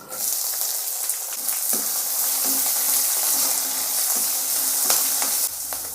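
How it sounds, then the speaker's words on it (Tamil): A single onion sautéing in a pan with crushed garlic for a ridge gourd milk curry, giving a loud, continuous hiss of frying with light scraping stirs, heard alone without speech. "வெங்காயம் வந்து கொஞ்சம் லைட்டாக வதங்கினா போதுங்க"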